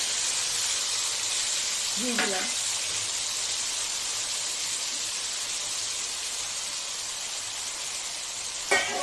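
A spice paste of tomato, green chilli, onion and garlic frying in oil gives a steady close hiss and sizzle throughout, with a couple of brief clinks of a utensil.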